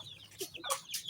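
Chickens on a farm cluck in short, soft bursts, a few quick calls heard close by with no talking.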